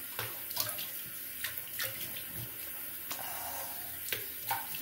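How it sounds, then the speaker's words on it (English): Tap water runs into a sink while someone rinses after a close wet shave, a steady close rush broken by repeated splashes and slurps of water scooped up by hand. "So let me rinse up."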